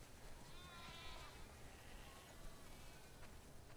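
Sheep bleat faintly a few times over a steady background hiss, the calls soft and somewhat distant, in the video game The Last of Us Part II.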